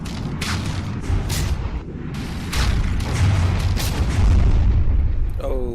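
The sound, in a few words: ship's ammunition magazine exploding in the video game From the Depths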